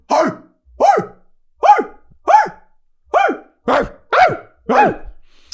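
Voice imitation of a dog barking: eight evenly spaced, gruff woofs delivered up close by a person, loud and rhythmic with short silent gaps between each.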